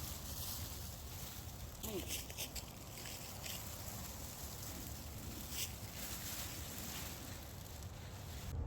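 Wind gusts blow across an outdoor campsite with a plastic tarp shelter strung on a bridge line, making a continuous low rumble and buffeting on the microphone with a few brief rustling bursts, no talk.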